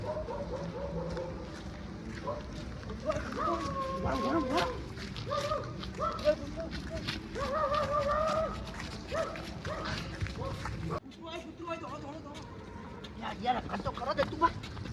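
Dog barks and yips come in bursts amid loud, overlapping talk and shouting from several people, with a busy noisy background throughout.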